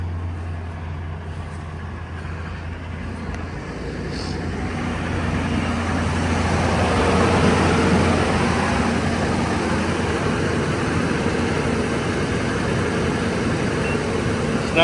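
A vehicle engine runs steadily after a jump start from a Milwaukee M18 HOTSHOT jump starter with 2000 peak amps, a low continuous rumble that swells slightly midway and holds at a moderate, close level with no talk.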